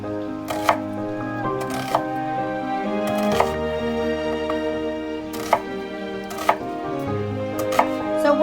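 A knife slices food on a cutting board in a steady run of sharp, close chops, loud and clear with no talking.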